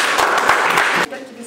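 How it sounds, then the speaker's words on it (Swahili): A school gathering applauds the education officer with loud, dense clapping that runs for about a second and then cuts off sharply, leaving quieter room sound and a faint voice. "Hebu tumpigie makofi."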